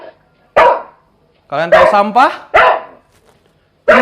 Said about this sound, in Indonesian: Dan ini adalah suara gonggongan anjing.